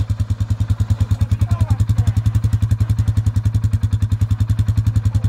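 A Kymco quad ATV engine idles loudly and close by, with a fast, even thumping pulse that holds steady throughout.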